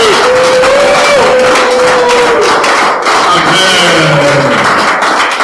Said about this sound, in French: pousser ce matin des cris de joie et des acclamations